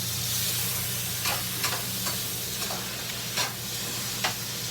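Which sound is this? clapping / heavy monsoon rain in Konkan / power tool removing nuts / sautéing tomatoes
sautéing tomatoes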